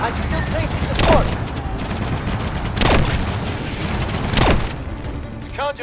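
Rapid automatic gunfire and booming bursts in Call of Duty Advanced Warfare, loud and sustained with mechanical clanks, swelling three times over a busy battle backdrop, with voices mixed in.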